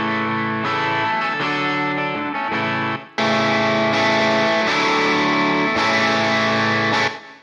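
Electric guitar with a clean, less driven tone through a Nashville session cabinet impulse response, playing sustained chords with a short break near the middle, steady and loud with a slight effects shimmer.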